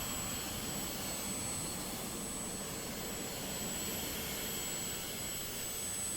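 Jet aircraft engine during a flight, heard from inside the cabin as a steady, loud, broadband roar with a faint high whine, continuous and unbroken throughout with no voices.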